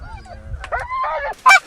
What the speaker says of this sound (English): We got more geese coming.